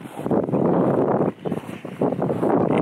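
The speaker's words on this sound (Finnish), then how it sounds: "Pikkasen tuulee, ei mitenkään viima." Light wind buffets the microphone outdoors on a sunny, snowy ski slope, loud rumbling gusts that swell and drop off briefly a few times, with no voices.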